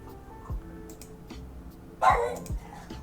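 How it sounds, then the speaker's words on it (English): A pet dog gives a few short barks in a room, a small soft yip near the start and a louder single bark in the middle, fairly close against a quiet background hum. "little greeting from my dog there"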